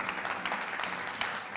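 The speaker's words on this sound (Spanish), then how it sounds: "un aplauso para el Señor" Short burst of congregation applause for the Lord during a church worship service; dense, even clapping that fills the space throughout.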